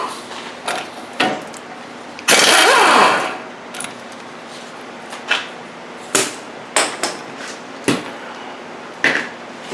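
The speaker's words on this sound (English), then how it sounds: "You can come in here with a hammer and bang on the side right here and just keep banging, and it'll pop right down." A hammer bangs on a steering rack-and-pinion part of a 2000–2006 Toyota Tundra, a string of sharp metallic strikes in an uneven rhythm, plus one longer scraping clatter early on, all close up with no talking.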